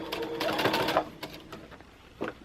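A sewing machine back-stitches circular binding onto a quilted dust cover for an Accuquilt Studio die cutter, giving a short burst of whirring stitches near the start, a pause, and one more brief run near the end.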